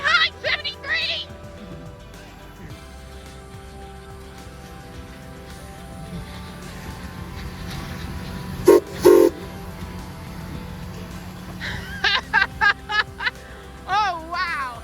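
White Pass & Yukon Route steam locomotive 73, built in 1947 by the Baldwin Locomotive Works, sounds its whistle in short blasts, first briefly and then in a cluster of repeated toots near the end, with people talking and a voice around it.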